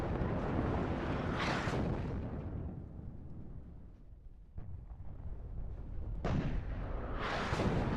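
Artillery and mortar fire in the war strategy game WARNO, heard as heavy distant booms and rumbling blasts that swell and fade, with a sharper burst near the middle and another loud rolling barrage at the end.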